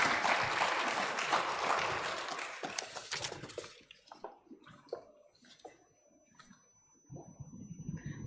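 Audience applause at a scholarship awards ceremony, a loud, dense wash of clapping for about three seconds that thins into scattered claps and fades to near silence before a short burst returns at the end.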